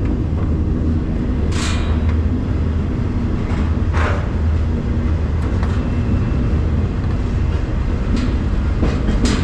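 A train rolls steadily along the rails with a loud, continuous rumble, broken by a few sharp metallic squeals and clicks.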